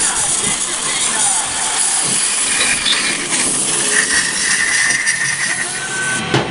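An aerosol can of carburetor cleaner sprays a loud, steady hiss onto 7.3L Powerstroke diesel injector parts during a rebuild, continuing for several seconds with slight fluctuations in pressure.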